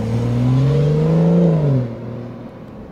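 A BMW 440xi's exhaust swells as the car accelerates, a loud, close engine note climbing in pitch for about two seconds, then dropping to a quieter, steadier hum.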